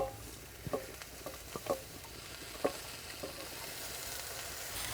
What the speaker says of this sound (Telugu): ఉల్లిపాయలు ఈ మాత్రం వేగాక తోటకూర వేసేసుకుందాం